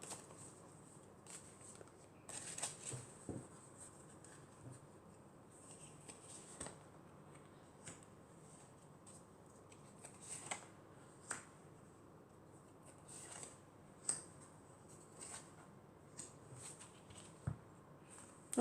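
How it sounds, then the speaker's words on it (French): Tarot cards are shuffled and drawn at close range: faint, sparse, crisp slaps and flicks of card stock against a quiet room, irregularly spaced throughout. "je vais prendre encore 4 cartes."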